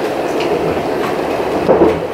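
A Swiss train leaving Zermatt rumbles steadily from inside the carriage, with a constant low roar and a brief louder swell near the end.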